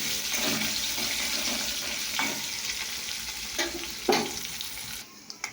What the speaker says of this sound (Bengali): পটলটা ভাজা হয়ে গেছে